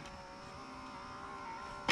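A Sony PS-FL77 turntable's open/close mechanism motor whirs with a steady, close hum for about two seconds, ending in a brief, louder clunk.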